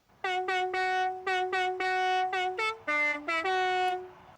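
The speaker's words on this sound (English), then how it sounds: "the Jingle Bells car horn, which sounds a bit like this." A Jingle Bells car horn in the video game Forza Horizon 5 honks the tune in loud, clear, bright tones, with short repeated blasts and longer held notes and no voices.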